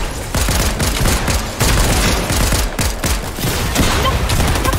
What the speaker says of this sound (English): we have to kill this guy with a sniper